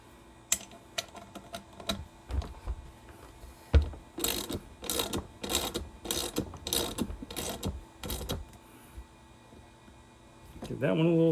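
Bolts being tightened on a cast aluminum RV jack with a ratchet, giving bursts of quick clicking pawl strokes between pauses, close by, while someone talks briefly.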